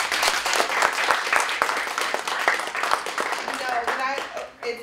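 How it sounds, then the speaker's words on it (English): A seated panel audience bursts into applause, a close dense patter of many hands clapping with voices and cheers mixed in throughout. "round of applause for our panel"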